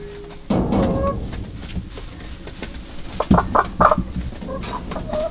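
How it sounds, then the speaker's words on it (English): Hybrid hens cluck in short, irregular bursts against a steady farmyard background, with a few louder calls near the end. "we have some hybrid chickens from a chicken house pretty locally"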